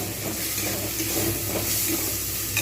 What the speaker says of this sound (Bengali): এবার এর মধ্যে দিয়ে দেবো টমেটো টমেটোটাও কিন্তু আমি ভালোভাবে ভেজে নেব